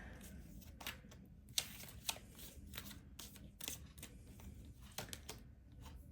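Tarot cards shuffled by hand, a soft riffling flutter in repeated quick bursts, quiet and close with no voices.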